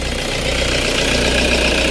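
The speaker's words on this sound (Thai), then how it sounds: "เสียงเครื่องยนต์นิ่มเดินเบาดี" A 2008 Toyota Vigo 2.5 pickup's diesel engine idles steadily and smoothly with a low, even rumble and light knocking, heard close and loud with no talking.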